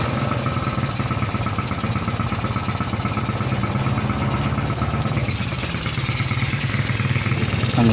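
A motorcycle engine being revived after sitting idle runs with a steady, throbbing idle, close and loud, its tone shifting slightly partway through, with no speech over it.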